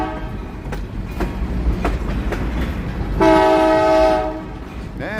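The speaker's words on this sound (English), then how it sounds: "Nice train here." A train rolls through the small railroad town of Sunman, Indiana, its wheels clattering in a rhythmic series of clicks before a loud, sustained horn blast sounds close by for about a second.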